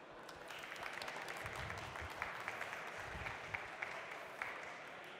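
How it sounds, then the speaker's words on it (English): A conference audience claps to welcome a speaker on stage for a talk on healthy teams, a fairly soft, steady round of applause with a few sharper individual claps standing out near the end. "Please welcome on stage with a huge round of applause"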